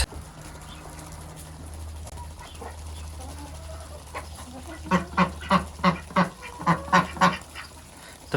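Ducks quack in a quick run of about ten rhythmic calls after a quieter stretch of distant farmyard ambience in minus 20 degree frost; fairly close and clear, no speech.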